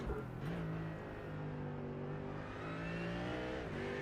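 A Mercedes AMG race car engine in the iRacing sim racing game revs and holds high, smooth tones, rising and dipping between shifts in a continuous drone, fairly quiet overall.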